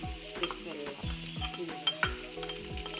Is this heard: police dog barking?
no